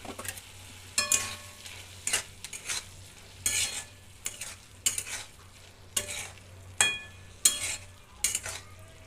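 Moong dal is stirred into cooked spinach in a hot pan, with a spoon scraping in about a dozen regular strokes over a soft continuous sizzle.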